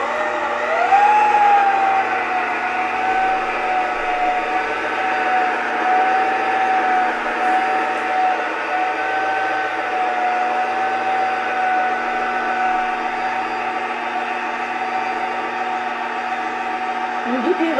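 Electric stand mixer running steadily on a slow speed, kneading whole wheat bread dough; a continuous close motor hum with a faint whine that holds even for the whole stretch, no talking.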